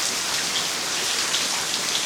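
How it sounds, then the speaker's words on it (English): Heavy rain falls steadily outdoors near a 1995 Ford Crown Victoria being taken apart, a dense, loud, continuous hiss of drops with no talking. "It will just not stop raining."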